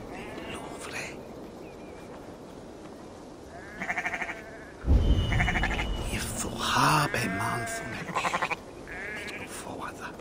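Sheep bleat several times in short wavering calls in the Assassin's Creed Valhalla game, with a heavy thump midway and other low grunts and noises around them.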